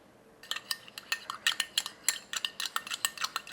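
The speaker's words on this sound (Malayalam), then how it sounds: "ഇനിയിപ്പോൾ കുറച്ച് തേനായിട്ട് ഇതൊന്ന് മിക്സ് ചെയ്തെടുക്കണം" A spoon stirring milk and honey in a bowl, quick rapid clinks and scrapes in a steady repeating rhythm, close and fairly quiet, no speech.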